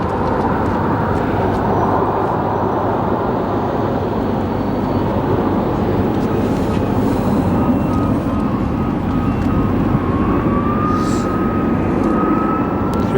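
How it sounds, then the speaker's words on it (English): A Southwest Boeing 737-700 arriving from Los Angeles at Phoenix Sky Harbor, its jet engines giving a steady, loud, continuous roar with a faint rising whine toward the end. "Arriving now, we have a Southwest 737-790 coming from Los Angeles"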